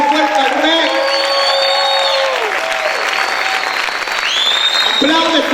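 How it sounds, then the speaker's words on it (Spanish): A church congregation claps loudly and shouts praise, with strong steady applause mixed with cheers and whoops, while a voice rises above with sliding, sung or shouted tones across the crowd noise. "¿Cuántos pueden gritar y aplaudir fuerte al Rey?"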